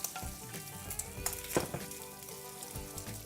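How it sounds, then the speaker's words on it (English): Cubed bacon sizzles steadily in a hot pan, a dense crackling hiss with brief louder pops and scrapes as it is stirred, close and continuous throughout. "Let's give our bacon a stir."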